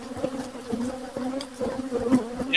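Honey bees swarming around an opened beehive, a dense, steady droning buzz with individual bees passing close, no talking.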